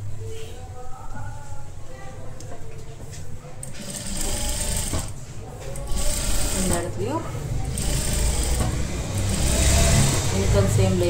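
A sewing machine stitches a kurti top all round, its motor whirring steadily and growing louder toward the end, with a person talking over it.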